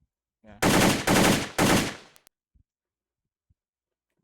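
Three loud automatic bursts from an IWI Galil ARM rifle in a video game, each a dense rapid stutter of shots, followed by a few faint clicks and near-silence.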